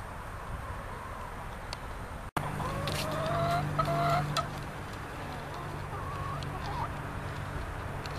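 Chickens cluck around an automatic waterer in a coop, a few close clucks and calls in the middle over low background noise, after a brief sharp click.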